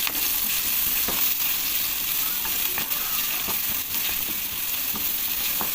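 Bombay duck fish sizzles steadily in a pan with turmeric, chilli, cumin and coriander powder, with scraping stirs at intervals and no talk.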